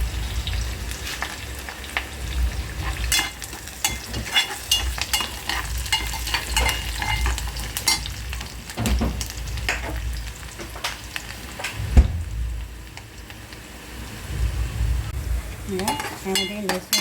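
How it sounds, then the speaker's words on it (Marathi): Onion frying in a pan with cumin and curry leaves, a steady crackling sizzle with stirring scrapes and occasional light clinks of a utensil on the pan, continuous and close. "पॅनमध्ये कांदा टाकलेला भाजायला, ह्याच्यामध्ये आता जिरं टाकलं आपण"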